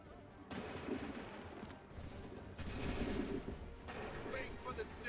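Musket volley gunfire in the video game Assassin's Creed III, several rumbling bursts of massed shots with booming echoes, rising and falling across a few seconds.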